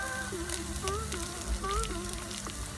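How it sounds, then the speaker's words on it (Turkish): Lean ground beef frying in a dry, oil-free pan, giving a steady close sizzle with soft crackles while a person talks over it. "Kıymamı yağsız tavama ekliyorum."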